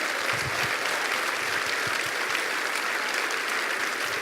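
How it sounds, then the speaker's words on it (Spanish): Church congregation giving God a round of applause, dense steady clapping from a large crowd filling the room, loud and continuous with no talk over it. "¿Cuánto le da un aplauso a Dios?"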